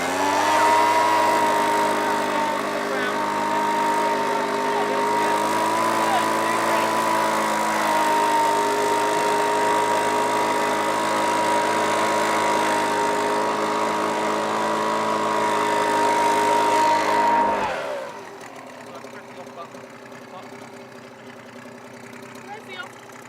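A motorised garden vacuum runs outdoors with a loud, steady engine drone and whine for about seventeen seconds, then cuts off abruptly, leaving quieter background.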